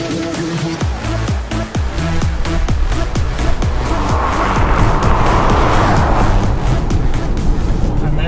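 A Tesla Model 3 Performance and a BMW i4 drag race side by side, their electric drivetrains whining and tires roaring on the strip, loud and close throughout, with people talking excitedly over the run.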